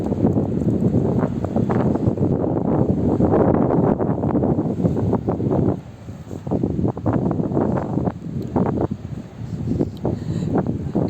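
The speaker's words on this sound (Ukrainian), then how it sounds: "нам вже трошечки, трошечки такий вітер сильний" Strong gusty wind batters the microphone on a winter seaside walk along the Odesa coast from Lanzheron to Arcadia, loud buffeting bursts rising and easing throughout, with no talk.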